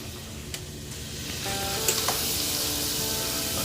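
About four tablespoons of butter melt in a pan as the base for a cheese sauce, a continuous close hiss that swells louder partway through and settles into a steady sizzle with occasional small pops, no voices.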